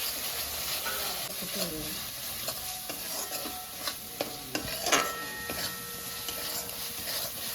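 Spice masala for a tengra fish curry frying in oil, a continuous close sizzle broken by scraping stirs and clinks of a spatula against the pan, with no talking.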